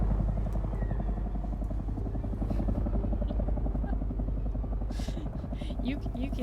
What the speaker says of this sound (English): that thopter's annoying